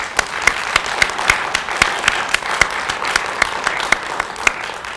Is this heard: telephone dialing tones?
no